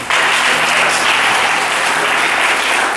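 A church congregation bursts into loud, sustained applause after a Bible reading, a dense wash of many hands clapping at once that carries on without pause.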